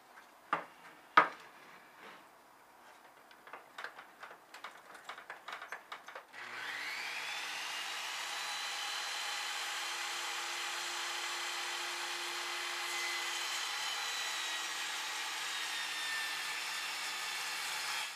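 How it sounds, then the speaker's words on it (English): A power saw rips a wooden board into 3/4 inch strips for a handmade Christmas ornament: a few sharp taps and knocks first, then a steady, fairly quiet whirring cut that continues evenly to the end. "now that our board has been cut to length, we're going to cut our 3/4 inch strips."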